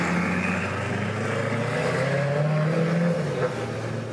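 A Koenigsegg Agera RS idling outdoors at a car show, a steady low engine drone with slight pitch shifts, fairly close and continuous.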